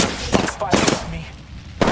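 Apex Legends gunfire comes as several loud, close automatic bursts in quick succession, with a short gap between volleys and a final burst at the end, mixed with game sounds.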